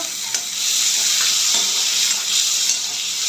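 Finely chopped tomato hits onions already fried in hot oil for a spicy okra dish, giving a loud, steady sizzle close by, with a few faint stirring clicks and no voices.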